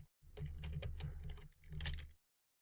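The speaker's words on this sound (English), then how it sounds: "So if I just type some random hexadecimal numbers and letters" Rapid computer keyboard typing as hexadecimal numbers and letters are entered in a hex editor: a close, dense burst of key clicks lasting about two seconds, with a brief pause in the middle and no talking.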